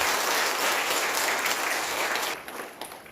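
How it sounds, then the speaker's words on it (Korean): Audience applause at a party rally, a dense, steady roar of many hands clapping that fades and thins out toward the end. "큰 박수 부탁드리겠습니다"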